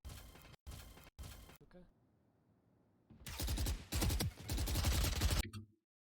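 Rapid gunfire in the tactical shooter Valorant: three short, loud bursts of automatic fire, a brief quiet pause, then a long sustained volley of shots, close and sharp.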